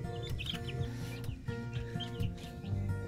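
Young chicks being raised on a farm cheep in rapid, high, repeated peeps, several birds overlapping close by, with soft clucking mixed in and no talking.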